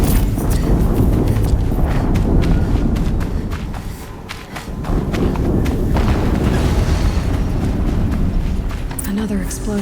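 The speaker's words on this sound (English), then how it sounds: "Another explosion." Explosions in Horizon Zero Dawn, loud low booms rolling under continuous game ambience with heavy thumping, a brief dip midway before the rumble resumes.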